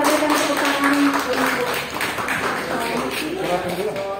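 A parish church congregation gathered to welcome a new pastor claps together, a steady, moderately loud wash of many hands running throughout under ongoing voices.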